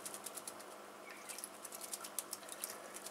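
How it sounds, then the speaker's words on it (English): A small bird flaps its wings while bathing in a shallow backyard water dish, giving a rapid, soft pattering flutter in short bursts that recur steadily throughout, close by and fairly quiet. "Nice little birdie."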